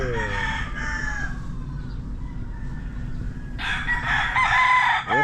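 A gamecock rooster on a farm crows loudly and close by, with a long drawn-out call at the start and another strong crow near the end over a constant low background hum.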